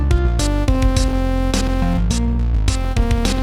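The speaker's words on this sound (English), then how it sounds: "the interlude section has this like plucky sound like this" A plucky synth carries the interlude of an indie game song, loud and dense, with short bright plucks over a steady sustained bed and low bass.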